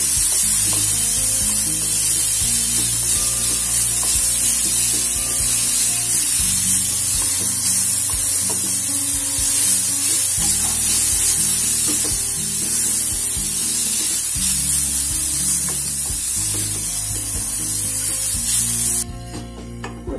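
Grated carrot sautéing in a hot pan for chutney gives a steady, loud, close sizzle and hiss throughout, with faint stirring scrapes and no voices.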